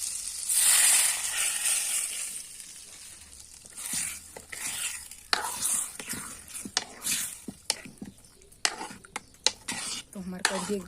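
Hot tadka tempering for kadhi hits the pan with a loud burst of sizzling, then settles into stirring, with scattered clinks of a spoon against metal cookware.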